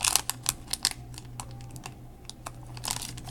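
Stickers being peeled off an old paper card, a series of sharp, close crinkly snaps and ticks in irregular bursts over a faint hum.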